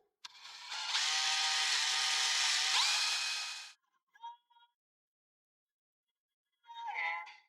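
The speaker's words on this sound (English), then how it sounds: "Thought I messed up again and drilled a hole all the way through it." Power drill boring through a mini bike seat, a steady loud whine lasting about three and a half seconds, followed by a few brief faint mechanical clicks and a short second burst near the end.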